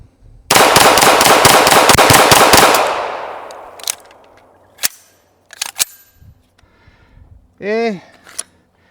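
A heavy Fouzi gun fires a rapid full-auto burst of about ten loud, close shots over roughly two seconds, followed by a few scattered clicks and knocks. A person's voice is heard briefly near the end.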